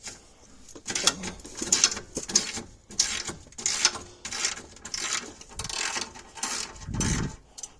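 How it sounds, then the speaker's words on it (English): Ratchet wrench breaking loose and turning the transmission bolts during an automatic-to-5-speed swap, a series of rapid clicking bursts repeating in short rhythmic runs, fairly close with no talking. "We'll break the 4 bolts loose and go from there."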